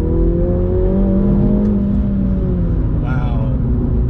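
A MINI GP3 engine, said to share its powerplant with the M135i, drones steadily from inside the cabin, its pitch slowly shifting as the car pulls, a constant close rumble with a brief higher whine near the end.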